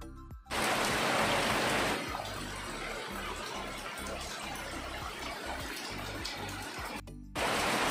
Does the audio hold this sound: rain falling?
yes